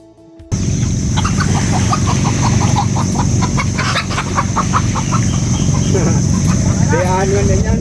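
Chickens clucking and squawking as they are chased, repeated agitated calls over a constant low engine-like hum, with a voice talking faintly.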